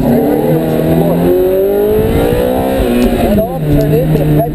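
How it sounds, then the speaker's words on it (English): Race car accelerating out onto a circuit, its engine rising in pitch through the revs with a gear change partway through, loud and close, while a person talks over it. "as soon as we're out onto the course and the car is pointing straight right here, we'll shift forward"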